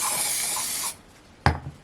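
An aerosol can of spray glue hisses out adhesive in one steady, close burst of just under a second, followed by quiet and then a short knock of the can being handled.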